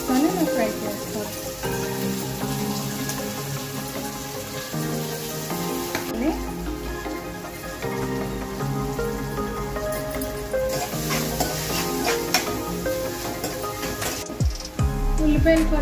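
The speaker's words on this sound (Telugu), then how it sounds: "ఉల్లిపాయ ముక్కలు వేసుకొని కరివేపాకు, పచ్చిమిర్చి వేసుకొని ఫ్రై చేసుకోవాలి." Onion pieces, curry leaves and green chillies frying for a okra tamarind curry: a hissing sizzle runs under loud, steady background music, with a sharp clatter near the end.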